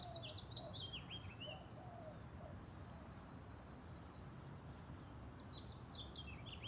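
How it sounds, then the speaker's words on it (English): Small birds chirping outdoors near a backyard shed, two short bursts of quick high twittering at the start and end, faint and distant over steady wind-like background noise. "Can you hear the birds?"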